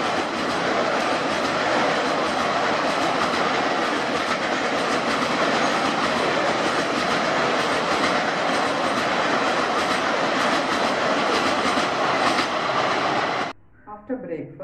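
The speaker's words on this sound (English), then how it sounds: "Now let us listen to the sound of the train when it crosses a bridge." A passenger train rolls across a bridge with a loud, continuous rumble and rhythmic clickety-clack of wheels on rails, steady throughout before cutting off abruptly near the end.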